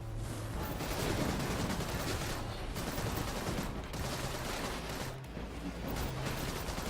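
Dense, continuous assault rifle fire in the action game Seraph, a loud sustained rattle of rapid shots with brief gaps, up close, mixed with game effects and no talking.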